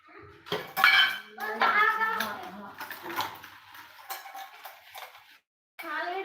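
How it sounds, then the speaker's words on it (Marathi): Dishes clatter and scrape while being scrubbed, with a voice talking close by over the clinking. "भांडे घासत आहे भांडी घसती भांडी"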